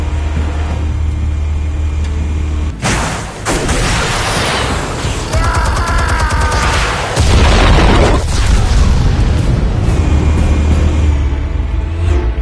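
Explosives detonating in the Batman Telltale video game: a sudden loud broadband blast with a rumbling low tail, followed by a second heavy burst and sustained rumble, all over a steady low background drone.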